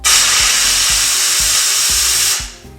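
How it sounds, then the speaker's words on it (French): An SC60 Superclean steam cleaner set to steam only releases a loud, steady hiss of steam close by, then cuts off and tails away near the end. "Vapeur seule."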